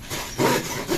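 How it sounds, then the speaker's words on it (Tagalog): Hand saw cutting wood at a house under construction, a steady rasping stroke that swells midway through, close and fairly loud, with no voices. "Naglalagari po si Tito Bad."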